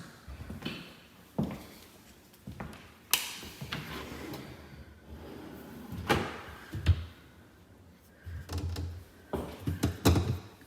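Soft-close MDF kitchen cabinet doors in a house are opened and shut repeatedly, giving a series of soft thuds and muted knocks with brief wooden clatters in an otherwise quiet room.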